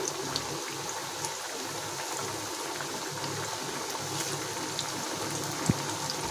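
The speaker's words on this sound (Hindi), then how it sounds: "ये कितने अच्छे से सिक रहे हैं हमारे कबाब" Lotus stem (kamal kakdi) kebabs, Sindhi beeh style, sizzle steadily in hot oil in a pan, a continuous close crackle with no voices.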